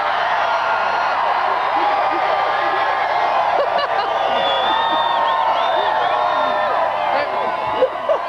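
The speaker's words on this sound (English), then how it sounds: "big crowd, excited crowd" A big, excited crowd heading home after a night out: a dense, steady wash of many voices with scattered whoops, cheers and laughter close by, sustained throughout.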